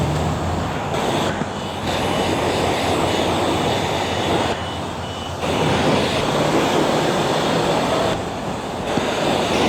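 Carwash pressure-washer wand rinsing soap off a motorcycle, a loud, close, steady roaring hiss with brief dips as the spray shifts, and no talk.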